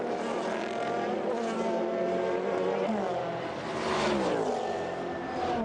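Toyota GT1 race cars roar off at the start of the 1999 Le Mans 24 Hours, a dense, sustained engine drone from a field of cars, swelling and shifting in pitch as they accelerate past.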